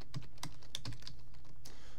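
Command typed on a computer keyboard while setting up a CMake project: a quick run of close, crisp key clicks at an uneven rhythm over a steady low background hum.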